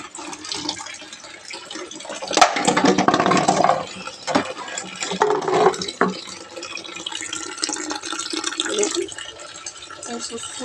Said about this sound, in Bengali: প্রচুর আস্তে জল পড়ছে এত সুড়সুড়ে হয়ে জল পড়ছে